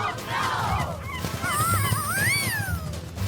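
Cartoon birds honk in a goose-like way, giving a run of rising and falling calls over a busy animated soundtrack, loud and close for about three seconds.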